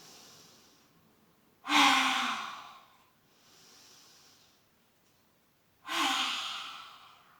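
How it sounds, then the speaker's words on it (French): Two forceful, breathy exhales with the tongue out, yoga lion's breath, each following a softer, quieter inhale; the breaths are close and there is no talking between them. "on va inspirer et expirer en tirant la langue"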